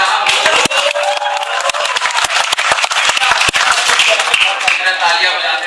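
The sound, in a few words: audience clapping at a poetry recital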